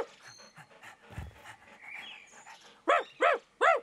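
A dog pants in quick, breathy bursts, then gives three loud, short vocal yelps close to the microphone near the end.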